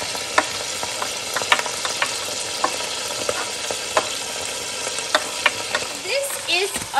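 Onion and meat for a Calabrese-style pizzaiola sizzle in a pan under a constant close hiss, punctuated by scattered spatters and clicks of stirring, and a voice speaks briefly near the end.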